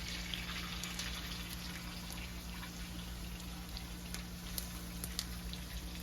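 Meat juices poured over T-bone steak and lamb chops sautéed in garlic butter, a soft steady trickling and light patter that runs continuously at low level with a constant hum beneath and no talk.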